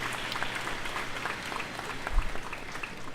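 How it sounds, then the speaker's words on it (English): A graduation audience applauds in a dense, steady patter of many hands clapping, moderately loud and continuous throughout without speech. "another resounding round of applause"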